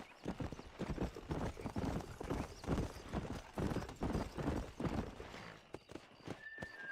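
Horse hooves clip-clop in a steady galloping rhythm in Red Dead Redemption on PC, loud and close throughout, with a brief high tone near the end.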